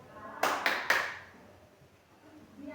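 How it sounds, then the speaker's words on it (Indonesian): Three quick hand claps close by in a classroom guessing game, sharp and evenly spaced, followed by quiet room tone. "Ya benar, bunyi tepuk tangan."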